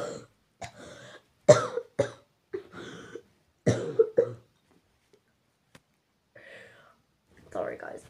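A woman coughs several times in short, sharp bursts at close range, with brief throat clearing and quiet speech between the coughs in an otherwise silent room.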